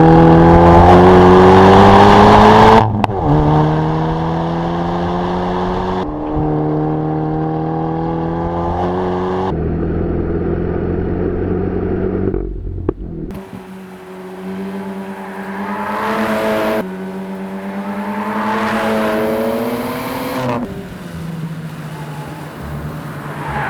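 A Hyundai Veloster N drives and revs hard, loud and close, its engine note climbing through several rising gear pulls with abrupt drops at each shift, with no talking.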